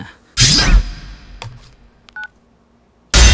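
A telephone is dialled with a few short, clean beeping tones that stand out briefly between louder bursts of noise, the room otherwise fairly quiet.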